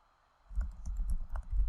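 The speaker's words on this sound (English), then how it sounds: "just going to type in Cleopatra" Typing a search on a computer keyboard: a quick run of close, light key clicks that starts after a short quiet moment and keeps going to the end.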